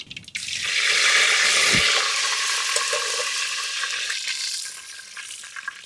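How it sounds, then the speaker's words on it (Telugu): Mustard, fenugreek and cumin seeds with curry leaves hit hot oil for a bitter gourd pulusu, bursting into a loud, close sizzle that holds steady and slowly eases off. "నూనె పోసుకుందాం ఆవాలు మెంతులు జీలకర్ర వేసేస్తుండా కొద్దిగా కరివేపాకు"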